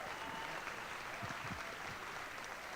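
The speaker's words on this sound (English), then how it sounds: "Another big round of applause for the symphonic band" A concert audience applauds a high school symphonic band at a pops concert, steady dense clapping from a crowd that holds even throughout.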